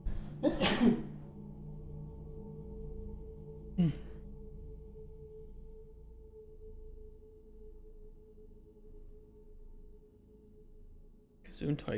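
A person sneezes sharply nearby, then lets out a breathy sigh a few seconds later, over a quiet steady low hum.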